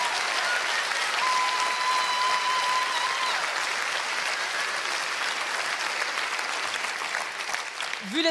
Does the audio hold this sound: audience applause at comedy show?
yes